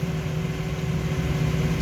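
A grain bin distributor, stirrators and a grain dryer run together, making a steady, loud mechanical drone with a constant low hum and no breaks or voices.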